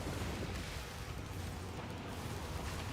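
Grenade explosions in a video game, a dense continuous roar of booming blasts that stays loud and steady throughout with no clear gaps, with no voices heard.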